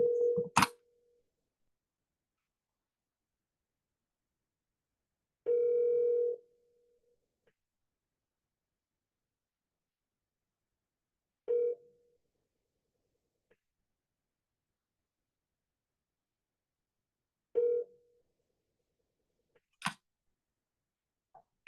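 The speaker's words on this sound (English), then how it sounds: "let me walk you through one more phone call and call Chastity" Telephone tones while a call is placed: several separate steady beeps spaced a few seconds apart, clear and fairly loud against silence, with no talking.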